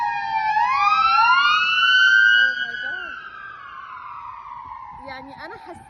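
A police siren in New Jersey sweeps upward and holds loud, then fades as it moves away, with faint talking heard underneath in the latter half.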